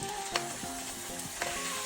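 Chopped meat sizzles and fries in hot oil inside a kazan, a steady close crackle with a few sharper pops and stirring scrapes, no voices.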